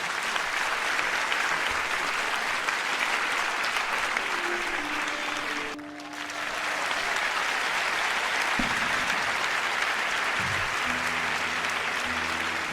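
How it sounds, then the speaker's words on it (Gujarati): At a school event, loud, sustained applause from a large audience fills the space and briefly dips midway before surging again, with faint tonal music or voices underneath toward the end. "હાથ ઊંચા કરી અને તાળીઓથી વધાવજો"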